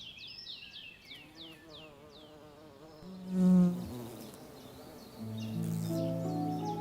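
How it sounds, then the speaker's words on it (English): Long-horned bees buzz around violet tufted vetch flowers, close buzzing drones rising and falling as insects pass, with birdsong and music-like tones behind. "The long-horned bees head straight for the tall spikes of the tufted vetch."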